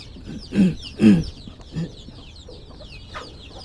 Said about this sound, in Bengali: এখানে একটা কুচে বসেছে মুরগি।